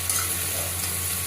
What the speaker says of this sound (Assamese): এয়া পিঁয়াজখিনি ধুনীয়াকৈ ভাজা হৈ গৈছে